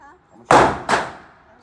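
Two loud, sharp gunshot blasts at a shooting range, close together with a short decay after each, preceded by faint talk.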